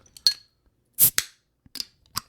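A few sharp metallic clicks and a hiss as the tab is popped on a can of tea, with brief crisp snaps scattered over a couple of seconds in a quiet room.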